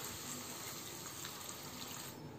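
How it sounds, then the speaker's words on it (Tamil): Water pours in a steady, continuous gush into a pan of vegetable salna for a Tamil parotta meal, running unbroken for over two seconds with no voices. "சால்னாவுக்கு தேவையான அளவு தண்ணி சேர்த்துக்கலாம்"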